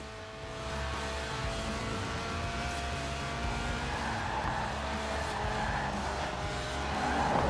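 Lotus Elise Sport 190 with a 1.8-litre engine revving toward 8,000 RPM in Forza Horizon 4, a sustained, fairly loud engine whine with tire skidding layered in, building slightly toward the end.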